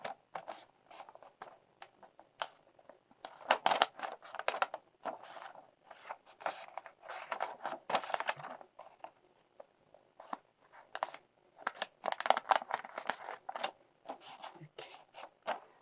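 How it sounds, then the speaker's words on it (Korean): Paper being folded and creased for an origami character, with repeated crisp rustles, scrapes and taps in irregular bursts, close up, with a voice speaking at times in between. "삼각으로 반을 접어주시고 옆에 잘라진 부분도 반을 접어주세요."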